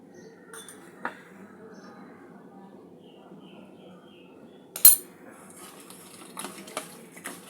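Cleaned prawns are worked together with salt and turmeric in a bowl for a pointed gourd and prawn curry. Quiet, steady squelching and rubbing continues throughout, broken by a sharp clink against the bowl near the middle and a few lighter taps afterward.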